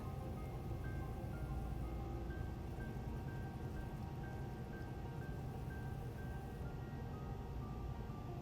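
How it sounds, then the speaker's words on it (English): Cold running water streams steadily over a salmon fillet being washed, a constant faint splashing hiss with no pauses. "just gonna wash it with some cold water."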